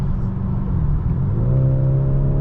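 A 2023 BMW 430i xDrive Convertible accelerates smoothly, its engine note rising steadily in pitch over a constant road rumble and wind noise, heard from inside the car.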